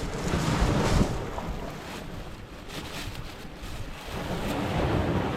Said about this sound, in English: it is pretty windy, and I hope you can hear me all right